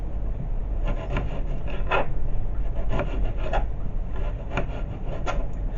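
A knife cuts thin slices of cucumber for duck wraps, making a series of soft, irregular scraping cuts on a board over a steady background hum.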